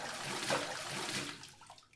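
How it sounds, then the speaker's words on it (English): Hands washed in water within a video game, a steady splashing, running-water wash that stays fairly even for about two seconds before thinning out and fading toward the end. "He was washing his hands."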